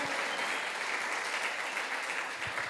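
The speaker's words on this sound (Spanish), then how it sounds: "Dele ese aplauso bien fuerte al Señor." A church congregation applauds at a Sunday service, a steady wash of clapping held at an even level throughout.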